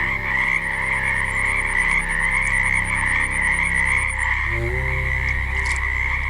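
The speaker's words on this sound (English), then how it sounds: "Hear them frogs tonight? Loud as ever." Chorus of frogs croaking at night near reeds and water, loud and continuous with layered pulsing calls and a rapid high trill that stops partway through.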